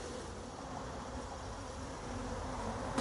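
Bees buzzing around a hot hive as it is sprayed. The low, steady insect drone stays faint and continuous, with a brief hiss right at the end.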